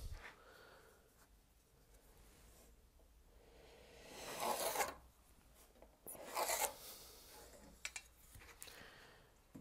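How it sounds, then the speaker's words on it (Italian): A pencil is drawn in a diagonal line across wood while marking out a herringbone chevron cutting board, giving two soft scratchy strokes, each lasting about a second, close up in a quiet workshop. "adesso vado a tracciare una riga diagonale"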